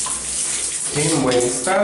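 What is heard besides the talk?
shower running water in bathroom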